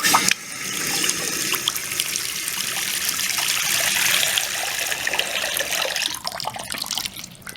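A bathroom sink faucet runs after dirt from the supply line clogged its aerator, producing a continuous close rushing stream that holds steady before thinning into an uneven trickle near the end, with no voices.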